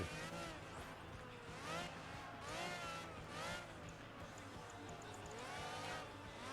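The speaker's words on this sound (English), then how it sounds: "That's a Ferrari, right? That is a Ferrari." A Ferrari racing in Project Gotham Racing 3, its engine revving up and down in repeated rising whines through gear changes, steady and fairly close, with a voice speaking over it.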